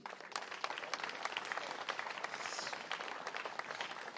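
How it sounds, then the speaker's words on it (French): Steady applause from an audience at an outdoor tribute ceremony to Joan of Arc in Domrémy, a dense sustained patter of many hands clapping at moderate distance, with no voices over it. "vous pouvez vous-même vous applaudir"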